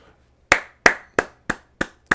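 Six slow, sharp hand claps in the video game 7 Days to Die, in a steady rhythm, crisp and close, with silence between each clap.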